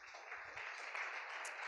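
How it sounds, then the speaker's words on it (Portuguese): A church congregation applauds together in a steady wash of clapping, fairly faint and distant, lasting under two seconds. "Você pode aplaudir a Jesus?"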